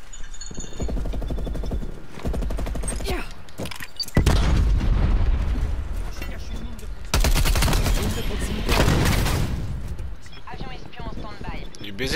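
A proximity mine goes off in a French-language online shooter, with booming blasts and bursts of gunfire thundering through the battle, loud and dense, while players talk over the action.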